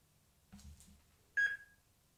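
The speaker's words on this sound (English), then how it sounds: "Oh, it's beeped." A single short electronic beep rings out clearly from an Amstrad PenPad PDA600 turning on, after a brief soft handling noise, then fades into quiet.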